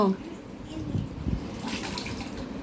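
Water splashes and sloshes as someone stirs it by hand in a flooded house, irregular close splashes and trickles running under a murmur of talk.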